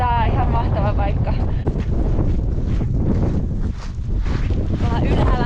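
Strong wind roars and buffets the microphone near the summit of Mount Fuji, a dense broadband rush that stays loud throughout with brief dips, while a voice is faintly heard over it at the start.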